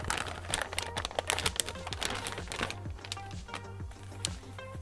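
Cardboard and plastic packaging of a boxed Hercules 3D Prophet 9800 Pro graphics card crinkle and rustle close by as the box is opened, quiet and steady with small irregular crackles.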